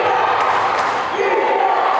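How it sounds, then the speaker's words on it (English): Gator basketball fans in a gym crowd cheering for the defense, a steady roar of voices with a couple of sharp bursts, brief and even in loudness. "Gator fans cheering for the defense to pick up here"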